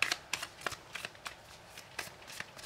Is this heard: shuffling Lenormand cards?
yes